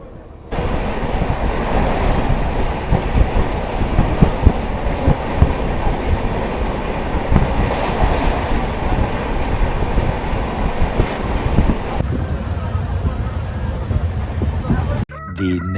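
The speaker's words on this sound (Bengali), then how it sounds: "আমার ট্রেন ছেড়ে দিল বালেশ্বর রেলওয়ে স্টেশন।" Passenger train pulling out of Balasore railway station on the Kolkata–Puri Jagannath Express route, a steady loud rumble of wheels and carriages running continuously, then cutting to a quieter hum near the end.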